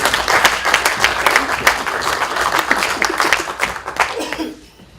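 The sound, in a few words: audience applause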